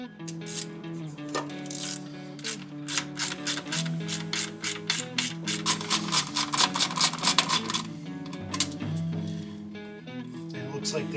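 A hand ratchet clicks in quick repeated bursts while undoing brake booster nuts, close and crisp, with short pauses between runs of strokes.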